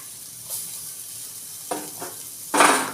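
Frying coconut and onion stirred in a pan, a steady faint sizzle broken by a few louder scraping stirs near the end, with no voices.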